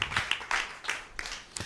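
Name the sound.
congregation clapping to glorify the Lord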